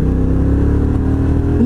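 A Honda NT1100 motorcycle's 1100 cc engine idles with a steady low rumble, then revs upward near the end, its pitch climbing sharply.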